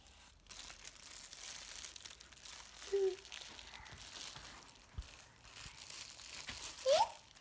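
A dog crinkles and rustles a plastic bag while playing alone with toys indoors, producing soft, intermittent crackling and crumpling close by, with a few brief louder scrunches and faint background noise.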